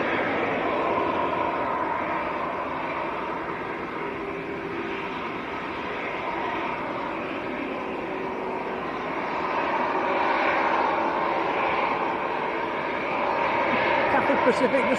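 An airliner climbs out of Manchester Airport after takeoff with its gear up, a sustained broad jet roar that swells and eases over fifteen seconds, with people talking over it.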